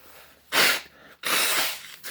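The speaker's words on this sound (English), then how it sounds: "That's why I had a little TB here to blow my nose." Someone blows their nose close by, two long, loud breathy honks separated by a brief pause, with a third starting at the end.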